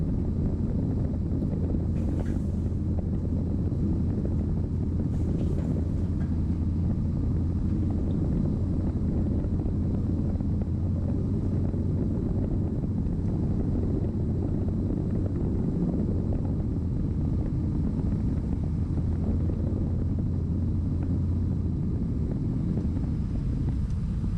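A small aircraft lands on runway 16 left, heard as a steady low engine drone and wind rumble filling the cabin, with no distinct touchdown thump standing out.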